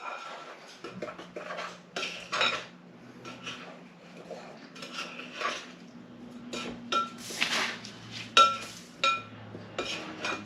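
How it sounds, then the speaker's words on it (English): Caramel apple muffin batter being gently stirred in a bowl, with irregular close scrapes and knocks of a spoon against the dish, a low steady hum underneath and no talking. "gently stir."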